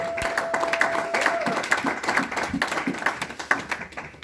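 A church congregation at a Sunday service applauds, with irregular rhythmic clapping and scattered taps from many hands at moderate volume, mixed with voices and a brief tone near the start.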